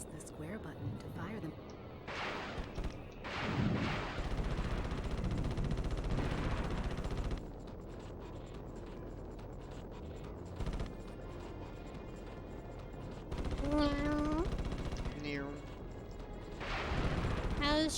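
Weapons firing in the Ratchet & Clank video game, a dense run of crashing blasts and booms that comes in bursts, with someone talking through parts of it.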